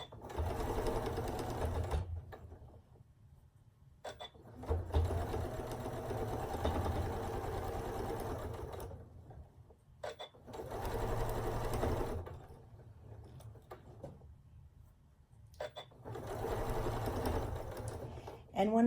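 A sewing machine stitches quarter-inch quilt seams on a scrap quilt with a quarter-inch presser foot, running in several loud steady bursts separated by short pauses. Speech may come in faintly during the gaps.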